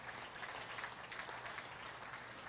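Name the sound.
applause for 4-H beef show exhibitors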